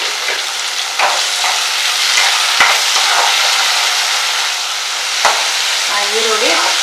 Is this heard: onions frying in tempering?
yes